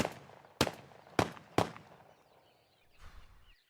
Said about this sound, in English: How many rounds can you feed through a Remington Versamax before it malfunctions?